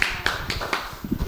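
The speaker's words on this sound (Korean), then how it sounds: "두 분에게 박수를 한번 쳐드릴게요" An audience clapping for two speakers at a talk: a brief patter of claps with a few sharp hits, heard alongside murmuring voices.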